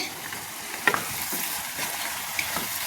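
Vegetables fry in a pan with a steady sizzle, broken by a couple of brief scraping stirs close by.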